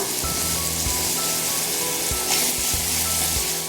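Onions sautéing in a pan for a home-style rasam, with a steady loud sizzle and occasional scrapes of a spoon stirring, and no voices.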